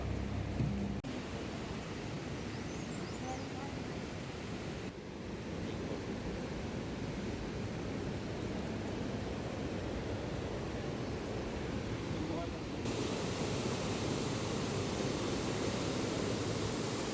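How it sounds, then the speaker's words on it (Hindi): The Alaknanda river in Uttarakhand flows loudly below a road, making a continuous broad rushing roar that holds steady throughout with some wind buffeting on the microphone. "नदी का जो आवाज़ था वो बहुत ही ज़्यादा लाउड था, वो सड़क पर सुनाई दे रहा था नीचे से"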